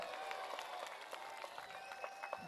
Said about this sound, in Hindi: जोर से ताली बजाइए दोनों के लिए